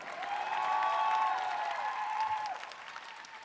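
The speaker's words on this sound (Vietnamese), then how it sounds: "Một tràng pháo tay nữa cho Vinh Hải và Hồng Nhung" Audience applause for dancers Vinh Hải and Hồng Nhung after a contemporary dance on a televised dance competition, a steady wash of clapping that swells early and tapers off toward the end, with faint cheering tones mixed in.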